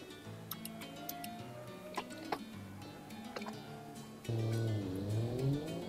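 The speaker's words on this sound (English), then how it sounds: "this car sounds so good" A car engine drones steadily while driving in BeamNG, with a rougher, louder engine note swelling in the final seconds, plus a few light ticks and clicks along the way.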